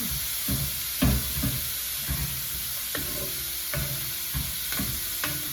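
A wooden spatula scrapes and knocks repeatedly against a very hot pan as food is stirred over a constant sizzle, close up with regular strokes and no voices.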